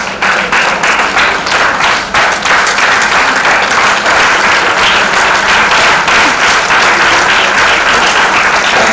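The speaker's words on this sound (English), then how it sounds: "Please can we stand and keep clapping for her?" Conference audience on its feet applauding for a deputy governor, dense loud clapping from a large crowd, sustained and steady throughout.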